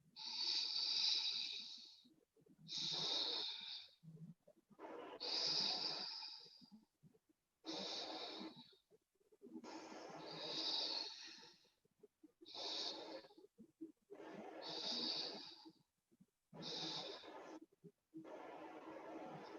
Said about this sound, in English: Normal breathing.